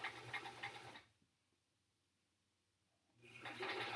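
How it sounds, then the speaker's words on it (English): A sewing machine stitches small quilt block pieces at a scant quarter-inch seam: two short, quiet bursts of whirring separated by a silent pause. "I'm going to sew with the scant 1/4 inch"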